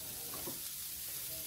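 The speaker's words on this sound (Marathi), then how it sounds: "तव्यावर ना कांदा लसूण आणि आलं घालूया" Onion, garlic and ginger fry on a hot griddle, giving a soft, steady sizzle close by, with no talking.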